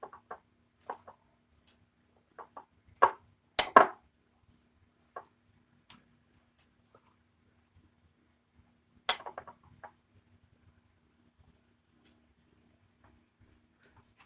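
Scattered clinks of a utensil against a pan while steamed spice paste is stirred for anyang, sparse light knocks with long quiet gaps and two sharper scrapes.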